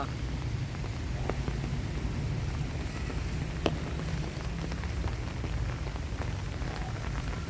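After a full day of rain, steady rain falls on a farm field planted with peas, okra and beans. It makes a dense, continuous hiss with scattered close drip ticks and no voices.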